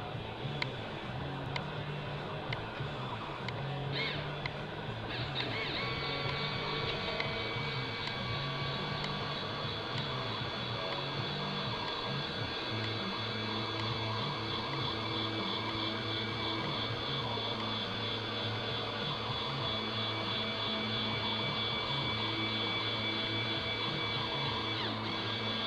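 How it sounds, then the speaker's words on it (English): An electric linear actuator rigged to steer a canoe gives a faint, steady motorized whine and hum, running continuously under a low background with no voices. "try out this actuator here"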